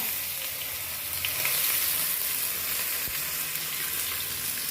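Steady, bright sizzling of chopped onions frying in a hot pan with fennel seeds, a continuous crackling hiss at even loudness with no talking.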